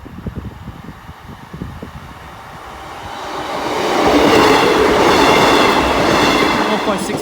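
A train passes over Boultham level crossing, rising from a low rumble into a loud, close roar of wheels and wagons with rhythmic clatter, sustained to the end.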